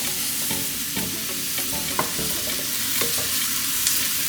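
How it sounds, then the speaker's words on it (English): Truffle mushroom risotto being stirred in a pan, a spoon scraping in a steady rhythm over a low continuous sizzle, close and fairly quiet, with no talking. "Now stir it up."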